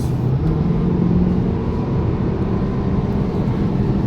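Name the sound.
tire and wind noise inside car on motorway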